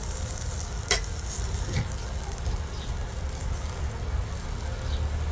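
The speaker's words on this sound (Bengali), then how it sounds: "এই যে পেঁয়াজটা যে নরম করে নিচ্ছি, এটা কিন্তু নরমই থাকবে" Onion scapes fry softly in a pan, giving a low, steady sizzle with occasional stirring scrapes and faint clicks close by.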